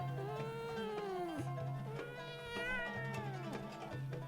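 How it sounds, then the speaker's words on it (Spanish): A cat meows repeatedly in drawn-out, wavering cries, about four in a row, close and clear with nothing else going on. "el gato empezó a maullar"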